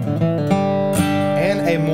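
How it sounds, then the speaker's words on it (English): Standard bluegrass G run on acoustic guitar: a quick string of plucked single notes with hammer-on and pull-off slurs, ringing out close and clear with no talking. "The normal, what we'll call the normal G run,"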